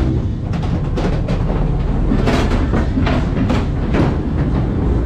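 A ghost train carriage at a funfair rumbles steadily along its track with a continuous clattering roll, loud and close, no voices.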